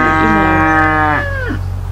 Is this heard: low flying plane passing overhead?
no